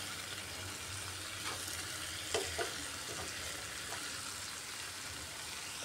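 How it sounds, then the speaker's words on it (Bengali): Fried rohu fish and brinjal stirred in spices in a pan, giving a faint, steady sizzle with a few soft scrapes of the spoon and no talking. "বেগুন আর মাছটা দিয়ে আর একটু সময় ভালো করে নাড়িয়ে নিচ্ছি।"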